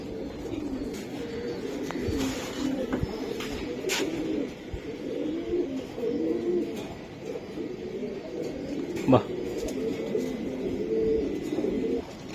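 Pigeons coo steadily in a loft, several birds overlapping in soft rolling calls throughout, with occasional sharp knocks and rustles nearby.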